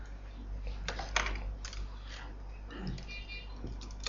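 Rapid, uneven keystrokes tap on a computer keyboard as commands are entered, close and fairly quiet over a low steady hum, with a voice speaking faintly in places.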